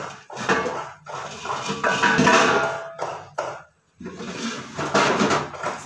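Large metal cooking pots and vessels clatter and clank in a home kitchen during festival preparations, a loud, busy run of knocks and scrapes with a short pause before more clanging.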